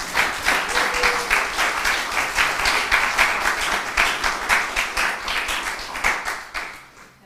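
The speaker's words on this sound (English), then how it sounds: "Let's get a round of applause for Frank." Applause from a congregation during a church worship service, a moderate-sized crowd clapping in a pulsing, partly rhythmic pattern for several seconds before quickly fading out.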